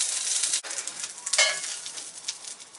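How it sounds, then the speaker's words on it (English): Steady crackling sizzle of lamb shanks frying in a heavy camp oven, continuous and close, with an occasional brief stir or scrape. "It's been about 20 minutes just frying away"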